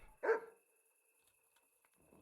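A single sharp dog bark rings out in a quiet night village in Kingdom Come: Deliverance, moderately close and alone, followed by near silence and a faint rustle.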